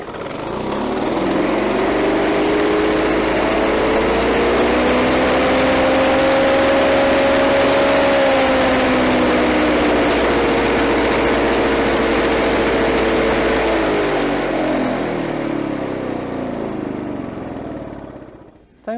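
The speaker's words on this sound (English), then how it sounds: "So now, if we start the engine, should start straight away." A Victa Power Torque VE40 lawn mower engine, previously flooded, starts and runs steadily at close range, its loud drone rising slightly in pitch and holding before easing off at the end.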